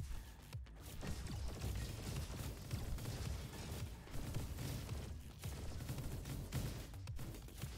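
Rapid pulse rifle fire in the shooter game Roboquest rattles on continuously, dense bursts of weapon shots and impacts filling the whole stretch with little pause.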